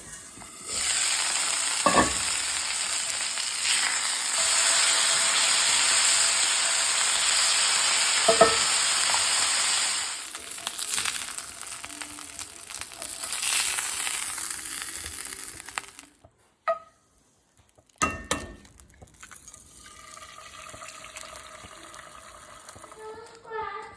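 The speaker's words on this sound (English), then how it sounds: "And then we'll get an egg in the pan." An egg frying in a pan gives a strong, steady sizzle for about ten seconds, with a few clinks from utensils, then fades into quieter kitchen handling and scattered clatter.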